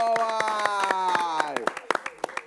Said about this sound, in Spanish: un aplauso para la gente de San Cristóbal